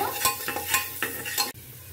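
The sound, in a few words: stirring whole garlic frying in oil with turmeric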